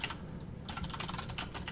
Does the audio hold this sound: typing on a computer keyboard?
yes